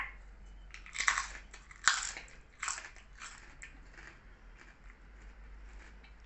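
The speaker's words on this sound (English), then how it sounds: "So let's give it a crunch." Crisp microwaved pork crackling bitten and crunched three times in quick succession, each sharp close-up crack fading into quieter chewing.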